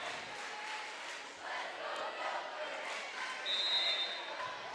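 Crowd at a high school girls' volleyball match in a gym cheering and clamoring steadily, with a brief sharp whistle tone near the end, under a continuous murmur of voices.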